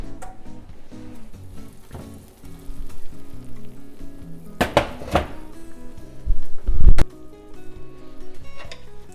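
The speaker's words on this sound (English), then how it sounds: "Give them a stir." Tomatoes roasting in a pan from a 400-degree oven get stirred, giving a soft sizzle with a burst of scraping and clattering near the middle and a heavier thunk later, close by and without speech.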